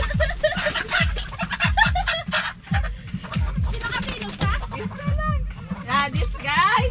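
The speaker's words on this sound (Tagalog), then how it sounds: "I can catch the chicken today. Where is the chicken?" Chickens cluck and squawk in quick bursts close by as one is caught in a village yard, with a person talking over much of it and scuffling movement throughout.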